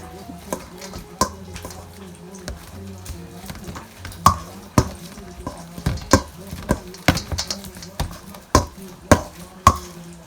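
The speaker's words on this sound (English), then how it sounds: "I'm done mashing the banana" Ripe banana being mashed with a hand masher in a bowl for muffin batter: a close run of irregular soft thumps and squelchy knocks, with no one talking.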